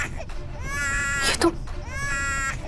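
An infant cries in two rising, wailing bursts separated by a brief gasp, close and fairly loud in an indoor home scene, with no talk.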